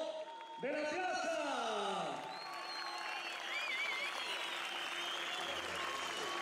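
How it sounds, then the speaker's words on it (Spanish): A crowd gathered in a plaza at the Enduro Ukupacha 2015 race applauds with sustained, even clapping and faint cheering, while an announcer talks over it on a loudspeaker. "Fernando Hidalgo, señoras y señores, Ecuador, con el aplauso de la plaza."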